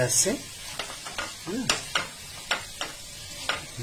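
A spoon scrapes and stirs spice masala frying in oil in a pan over a medium flame, with a soft sizzle beneath several distinct scraping strokes.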